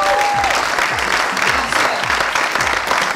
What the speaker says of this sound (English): we have to give a round of applause to all the team.